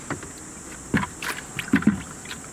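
Water rinsing over a boat's gel coat after polishing, heard as soft splashing and trickling bursts against a light breezy background, with a few distinct wet slaps near the middle and end.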